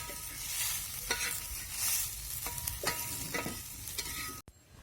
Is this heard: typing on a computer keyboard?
no